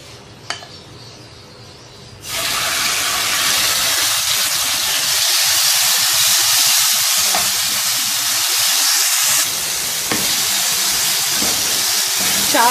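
Oil sizzles loudly in a pan over medium heat as food hits it, a steady close hiss that swells after a quiet start and continues throughout.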